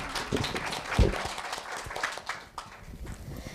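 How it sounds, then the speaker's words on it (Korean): A school speaking-festival audience of middle-school students gives a short round of applause, a soft, scattered patter of clapping that stays fairly quiet and diffuse throughout. "박수 부탁드립니다."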